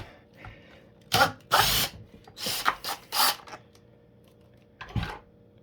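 Small power tool whirring in short bursts while loosening the spare tire post on a JJRC Q130 Pro brushless RC car, close and loud, with quiet gaps between bursts.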